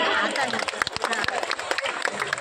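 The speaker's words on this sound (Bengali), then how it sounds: "জোরে হাততালি" Loud audience applause at a book fair prize-giving in Shaktipur, dense clapping filling the whole moment with crowd noise and scattered sharp claps, close and steady throughout.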